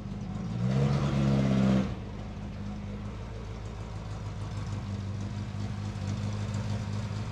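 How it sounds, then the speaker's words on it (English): A Ford Mk2 Escort with a lowered stance on Superlight wheels idles nearby, its engine giving a brief louder rev before settling into a steady, rumbling idle that holds to the end. "Mark's gonna put his Escort back in the garage before the weather turns again"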